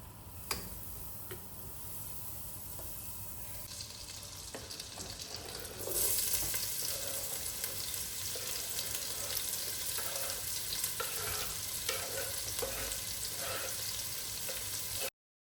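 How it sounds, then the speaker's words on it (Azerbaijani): Onions sauté in a pan, giving a steady low sizzle that grows louder partway through, with light ticking and scraping of stirring, no voices heard. "İndi də soğan çəkəcək."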